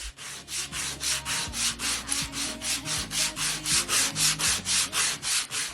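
Sandpaper is rubbed briskly back and forth over a rustic wooden sign, a Dollar Tree spring craft. About twenty even, rhythmic rasping strokes sound close up, with no voices.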